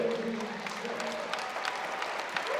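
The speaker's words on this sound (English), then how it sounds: "Ladies and gentlemen, would you please show your applause and thank Mr. Ethan Smith." Crowd applause in an arena at an NCAA college wrestling dual meet between Northern Colorado and Utah Valley University, a steady, moderately loud clatter of clapping hands sustained throughout with a faint tonal hum beneath.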